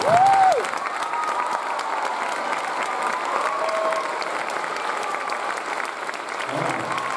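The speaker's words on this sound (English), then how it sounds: "Can we give them a very warm applause?" A concert audience at a high school wind ensemble's winter concert applauds warmly for all-region and all-district band members, a steady dense wash of clapping from a large crowd that holds at even loudness throughout.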